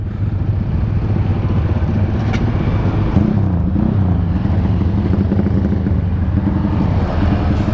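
Motorcycle riding on a road in Yogyakarta at dusk, its engine droning steadily and loudly throughout with heavy wind buffeting the microphone and no voices.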